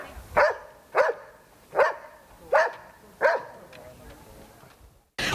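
Rescue dogs in training at a centre built on a former landfill bark five times in an even, steady rhythm, each bark loud and close, with no talk over them.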